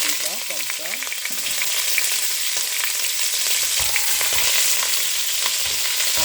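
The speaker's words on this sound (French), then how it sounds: "Je vais laisser griller un peu la viande." Meat sizzles steadily in sunflower oil in a saucepan, a dense, close, continuous crackle with occasional stirring scrapes; a voice briefly hums or talks over it at the start.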